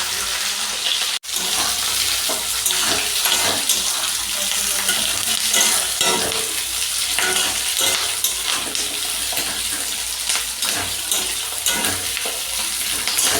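Bay leaves, chopped onion and capsicum fry in hot oil in a pan, giving a loud, steady close-up sizzle broken by stirring scrapes, with one brief dropout near the start.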